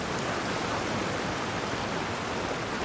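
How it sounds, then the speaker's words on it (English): Heavy downpour in the video game Genshin Impact, a dense, steady hiss of rain that stays loud and unbroken throughout. "Taking a stroll in the middle of a downpour certainly rouses the spirit."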